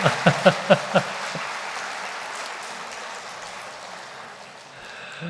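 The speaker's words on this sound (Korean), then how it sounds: "자, 우리 박수합시다." A church congregation at a Christmas Day service claps five quick rhythmic beats together, then breaks into a sustained wash of applause that slowly fades.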